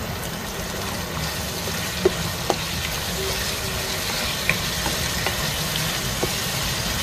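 Food frying in cooking oil until golden brown, heard as a soft, even sizzle with a low background rumble and a few faint pops and clicks throughout.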